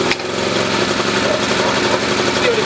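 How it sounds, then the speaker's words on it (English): A 909 Tools petrol generator runs with a steady, busy engine drone close by, loud and continuous throughout. "generator is now ready to start."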